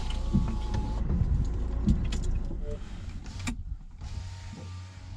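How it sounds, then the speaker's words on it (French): Car power windows whir open in a driving-school car, several motor whines in a row over a steady engine hum, with some clicks and faint rattles inside the car. "on va ouvrir les fenêtres"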